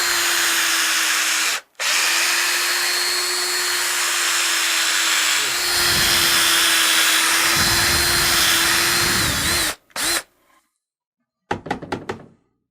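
Power reamer spinning through cork fishing-rod grips, a loud steady whine broken by brief pauses, then a few short spin-up bursts at the end.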